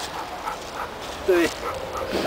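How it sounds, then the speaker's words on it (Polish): A pet dog in a home gives short whimpers and a yippy bark, close by, while someone talks over it. "Więc to jest, to jest proszę Państwa pies"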